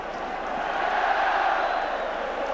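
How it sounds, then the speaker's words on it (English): Football crowd at the Celtic versus Dundee United Scottish Cup Final cheering the Celtic players as they come out: a broad, sustained roar from a large stadium crowd, steady and distant, without distinct claps or voices. "And down come the Celtic players, deservedly getting their individual cheer"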